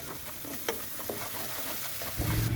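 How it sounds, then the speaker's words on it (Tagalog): Garlic and onion sautéing with oyster sauce in a pan, giving a steady close sizzle with a few soft stirring scrapes and a low thump near the end. "ginggisa ko na ang lasuna"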